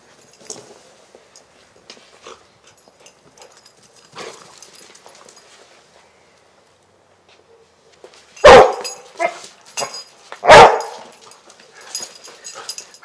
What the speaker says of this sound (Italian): Questo è l'abbaio indotto, che serve a segnalare all'operatore quando il cane ha trovato